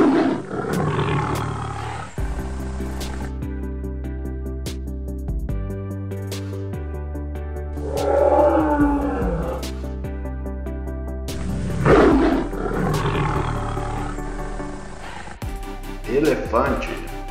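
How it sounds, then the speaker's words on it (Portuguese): A lion gives several deep, rumbling roars in separate bursts spread across the stretch, loud and close, layered over a steady musical backing. "Conhecido como o rei da selva, o leão é um felino que se destaca pelo seu tamanho"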